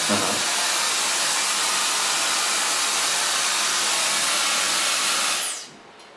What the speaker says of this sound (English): So far blow drying.